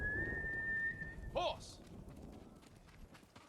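A rider whistles for a horse in the video game Ghost of Tsushima: one sustained, high, steady whistle note is followed by a brief call, then faint hoofbeats and rustling.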